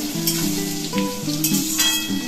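Chicken and onion fry in oil for a Bengali tel murgi, giving a steady, close sizzle that runs throughout without pause. A faint tonal hum sits underneath it.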